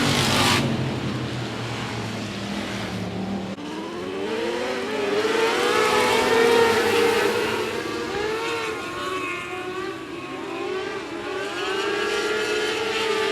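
A field of 600 micro sprint race cars roaring off at the start of a race at a dirt speedway, layered high-pitched engine wails rising and overlapping as the pack accelerates, loud and continuous for the whole stretch.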